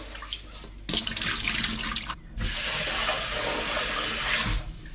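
Strong stream of water running from a kitchen tap in Australia, a steady rushing hiss that starts, pauses briefly, then resumes loudly and close with no talk.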